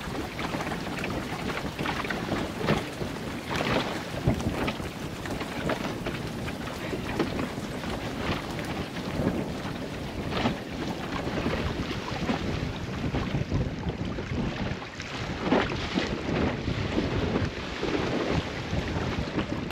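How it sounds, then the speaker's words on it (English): A sailing dinghy beats to windward in wind and rain, with constant loud wind buffeting, rushing water and splashing against the hull throughout. "Turns out to be rather a tough beat to windward in the rain."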